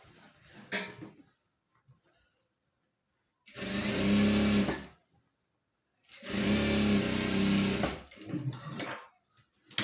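Sewing machine stitching the edge of churidar pant fabric, running in two loud sustained bursts of a few seconds each with quiet gaps and a few soft handling knocks between.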